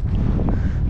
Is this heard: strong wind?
yes